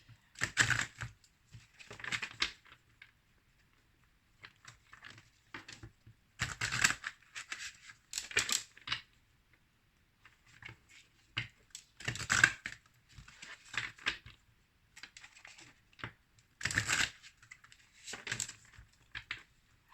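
Tarot cards are shuffled by hand in repeated short riffling bursts with quiet gaps between them. The sound is close and soft, and no voices are heard.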